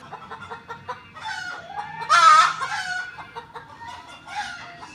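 A rooster clucking and calling in a farmyard while cats sit nearby watching the hens, with several bursts of clucks and one louder, drawn-out call in the middle, close and clear.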